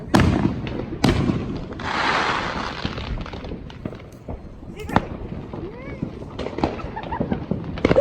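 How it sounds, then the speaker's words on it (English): Fourth of July fireworks going off close by: sharp bangs, one hissing crackling burst and scattered pops spread over several seconds, with people talking between the blasts. "The fireworks, Aaron."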